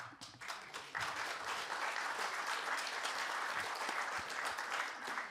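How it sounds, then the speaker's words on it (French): Applause breaks out in a conference hall at a colloquium on nuclear power. It starts with a few scattered claps, then swells into full, sustained clapping from the audience that stays at a moderate distance. "Et vous avez parfaitement le droit d'applaudir"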